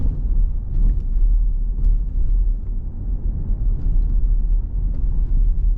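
Inside a RAM 1500 Laramie Night Edition pickup on the move, a low, steady rumble of road and suspension noise fills the cabin with faint scattered knocks, and no talk.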